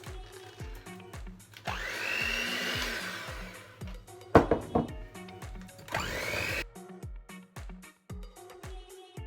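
An electric mixer whirs in bursts as white chocolate cookie dough is mixed, with sharp knocks and scraping against the bowl between runs, close and fairly loud.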